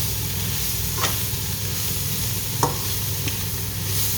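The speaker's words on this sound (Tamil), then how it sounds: "நல்லா வெங்காயம் எல்லாம் அதோட பொரிஞ்சிருக்குது." Onions and green chillies frying in a pan for a dried fish dish, giving a steady sizzle broken by a few brief scraping stirs, close and moderately loud with no talking.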